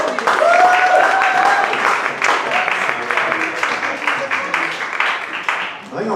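Audience applause at a poetry slam, a dense wash of clapping that holds steady for several seconds while voices call out over it and one rises in pitch.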